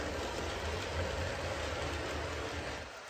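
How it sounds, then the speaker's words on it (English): Model railway trains roll along an indoor layout, giving a steady low rumble with faint rhythmic clatter that holds even for a few seconds, then eases slightly at the end, with no talking. "I'm going to watch the trains go by for just a minute"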